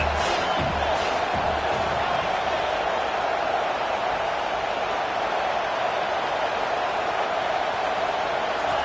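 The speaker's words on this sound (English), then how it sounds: "how nice is it to have the home crowd going absolutely bananas" A home crowd roars loudly and continuously in a College Football 25 game between Nebraska and Michigan, a dense wash of cheering that stays steady and near throughout.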